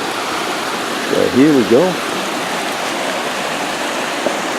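Mission Creek in Kelowna, a salmon spawning stream, flows in a steady, broad rush, with someone briefly talking over it near the start.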